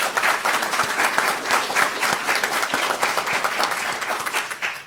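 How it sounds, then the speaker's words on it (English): An audience at a city council meeting applauds four council candidates, giving steady, dense clapping that carries on for several seconds, with individual claps standing out from the overall wash. "So a round of applause for these 4 candidates."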